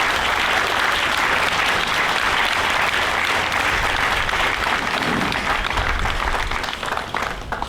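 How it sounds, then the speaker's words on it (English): Applause for military and first responders at a Flag Day groundbreaking ceremony, a dense, loud outdoor crowd clapping continuously throughout. "Could we please get a round of applause for all those who bravely serve our nation?"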